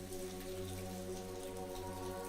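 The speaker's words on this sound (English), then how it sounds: "The sound of raindrops echoed through the narrow streets" Steady rain falls on narrow city streets in Scotland, a dense, even hiss of drops that fills the whole span at low, constant loudness with no voices.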